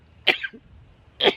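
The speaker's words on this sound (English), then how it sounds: "It's a sneeze." Two short, sharp bursts of a sneeze, close up, separated by a brief pause.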